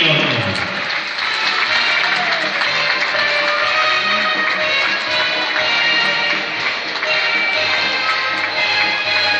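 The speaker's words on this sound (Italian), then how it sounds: "dimostratecelo con un forte applauso" Loud, dense applause from a circus audience fills the big top without pause, a steady wash of many hands clapping at close range with faint crowd noise underneath.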